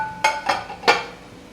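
A metal pot lid lifts off freshly cooked rice upma in a home kitchen, making three quick, close metallic clinks about a third of a second apart before the sound fades to quiet.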